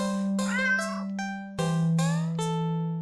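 A cat in a video game meows in several clear, tonal cries, one after another, with short gaps between them. The sound is close and loud, with no talk over it.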